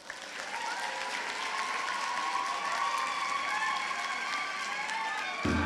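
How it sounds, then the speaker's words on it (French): Steady, fairly faint audience applause fills a hall at a closing ceremony, an even wash of clapping with a few voices mixed in, ending with a sudden shift near the close. "Vous pouvez les applaudir très fort."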